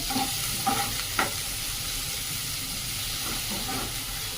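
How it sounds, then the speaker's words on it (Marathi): Onions sautéing in a pan over a medium flame give off a steady, close sizzle and hiss, broken early on by a few short stirring scrapes. "कांदा अशा पद्धतीने कांदा छान परतून घेऊया मीडियम आचेवर"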